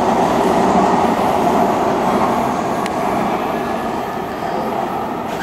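Loud, steady rumble of a metro train rolling along at Hollywood and Highland station, with a brief sharp click midway and the roar easing slightly toward the end.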